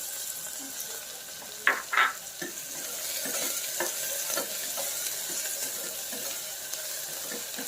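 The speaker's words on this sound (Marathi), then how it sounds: "कांदा चांगला भाजून घ्यायचा आहे." Finely chopped onion frying in a pan for stuffed brinjal, a constant close sizzle broken by a few sharp stirring scrapes and clinks.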